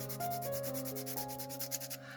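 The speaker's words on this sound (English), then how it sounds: "let's give it a little bit more sanding" Rhythmic back-and-forth sanding of a wooden part for a fancy stacker, about eight quick even strokes close up over a steady background hum.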